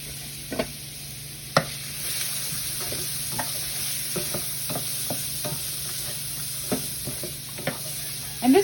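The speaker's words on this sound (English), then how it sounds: "I'm going to add the sausage to it." Sausage sizzling in a hot pan, a steady loud frying hiss with scattered pops and the occasional scrape or stir, close up and without talk.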